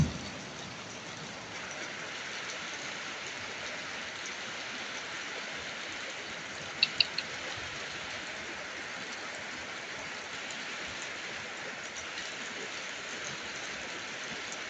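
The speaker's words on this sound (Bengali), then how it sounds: "একভাবে বৃষ্টি আজ 2 দিন।" Steady, unbroken rain falls outside during a prolonged downpour, a dense even hiss that continues throughout, with a few faint ticks partway through.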